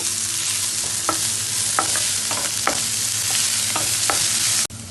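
Finely chopped onions sauté in a pan for a cauliflower breakfast dish, giving a steady close sizzle broken by repeated sharp spatula scrapes and stirs, then cutting off abruptly near the end; no one speaks.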